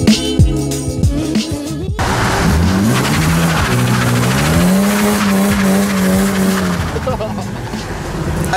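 A drift car driving through heavy traffic, its engine note climbing and holding steady, loud and close, with tire noise and a voice faintly mixed in.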